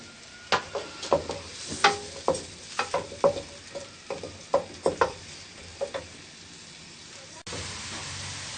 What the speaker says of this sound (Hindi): प्याज को हम अच्छे तरीके से ब्राउन करेंगे